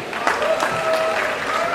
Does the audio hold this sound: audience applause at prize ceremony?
yes